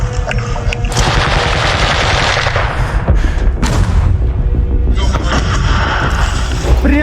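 Dense, loud gunfire from an infantry assault by the 3rd Assault Brigade in Avdiivka: overlapping machine-gun bursts and rifle shots crackle almost without pause, with heavier booms underneath and faint voices mixed in.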